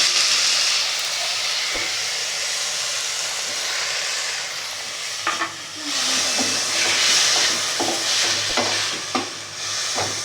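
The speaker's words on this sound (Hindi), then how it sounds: "अब इसमें ऐड कर देंगे 1 कप टमाटर बारीक कटे हुए" Finely chopped tomatoes, about a cup, sizzle and fry in a pan with ginger-garlic paste for a pizza sauce, a steady close hiss with occasional stirring scrapes and clinks, no talking.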